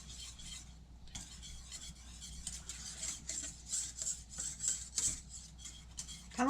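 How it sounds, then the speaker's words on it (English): A spoon works through thickening cream of wheat made from fresh milled wheat as it cooks, soft rhythmic scraping and swishing strokes against the pot, close and fairly quiet over a low steady hum. "that can be alleviated just by stirring it up as it's cooking"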